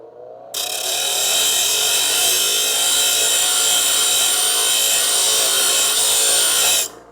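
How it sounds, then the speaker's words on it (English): Bench grinder shaping an angle into a metal tab during a Crew Cab Charger restoration: a loud, steady high whine with grinding hiss starts abruptly, holds for about six seconds, then cuts off. "I'll do that with the bench grinder"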